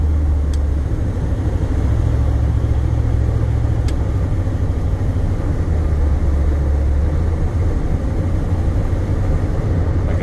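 A 1982 Chevrolet pickup truck driving with its engine running, a steady low rumble and drone that holds evenly throughout, close and loud, with no talking.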